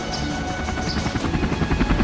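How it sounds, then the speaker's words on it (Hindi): A helicopter flies nearby, its low, rapid rotor thump chopping steadily under a broad whirring roar that grows slightly louder toward the end, with no talk over it. "ओह वाओ, यहाँ एक हेलीकॉप्टर है।"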